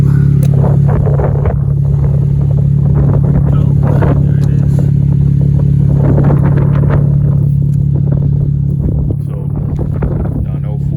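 A V6 Dodge Challenger with an eBay dual 2.5-inch catback exhaust idles in a steady, low drone. A person talks over it almost the whole time.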